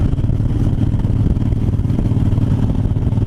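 Harley-Davidson Fat Bob motorcycle on an afternoon ride, a steady loud low engine rumble with road and wind noise throughout.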